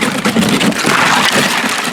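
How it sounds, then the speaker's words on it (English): Kayak pushing and cracking through thin ice on open water during a duck hunt: a continuous loud crunching and scraping with splashy, grainy texture, close to the microphone and with no voices. "I am breaking the ice to get out to the spot"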